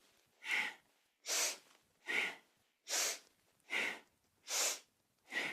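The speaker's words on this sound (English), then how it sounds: "Inhale out and up, exhale down and in." Deep rhythmic yoga breaths, a kundalini lung-clearing kriya, pulse in steady alternating inhales and exhales, seven close, airy whooshes with short pauses between them.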